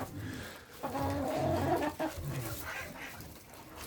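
Hens and roosters cluck and call near at hand, bursts of clucking rising and falling over a steady farmyard background, with a louder flurry in the middle.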